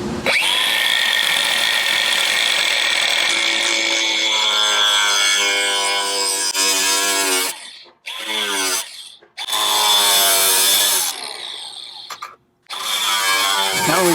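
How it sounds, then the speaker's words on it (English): Power tool cutting through the metal of a 2020+ GMC 2500/3500 truck front fender, a loud sustained whine with a falling pitch that breaks into several short bursts separated by pauses. "Now that we've got our metal piece cut out"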